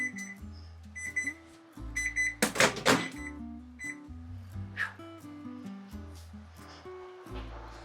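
A kitchen timer goes off as time runs out while a meal cooks, sounding a quiet run of repeated electronic beeps in a steady pulsing pattern, mixed with light kitchen clatter.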